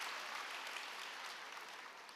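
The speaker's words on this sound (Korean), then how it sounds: "스스로 오늘 대가 지불하고 이 자리에 온 자신을 위해서 박수하시면 좋겠어요" An audience at a business vision lecture claps steadily in a quiet, distant-sounding wash of applause that fades slightly toward the end.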